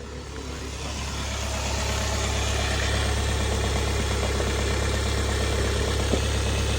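A diesel tractor engine idles roughly after a cold start in freezing mountain conditions in Zanskar, Ladakh, a steady close, loud low rumble with vibration continuing throughout, with no voices.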